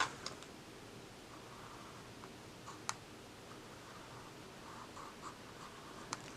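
A brown pencil writing on paper while collaging a paper junk journal page: faint, soft scratching strokes with a few sharp ticks, quiet and close, with no talking.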